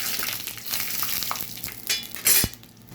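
Mustard seeds, cumin and curry leaves sizzle and crackle in hot oil while a spoon stirs them, giving a steady close frying hiss with a few sharp pops and a louder scrape near the end.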